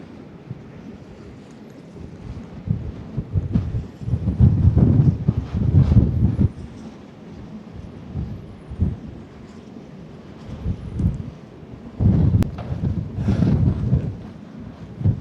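Gusts of wind buffet the microphone on a Pacific Crest Trail hike near Tehachapi in rumbling bursts that rise and fall, with loud blasts coming several times and quieter stretches between.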